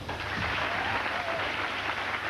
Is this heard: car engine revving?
no